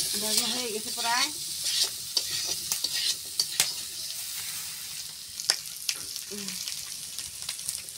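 Vegetables frying and being stirred in a pan in a village kitchen, with crackling sizzle and repeated scraping strokes of a spatula at close range, and a brief voice near the start.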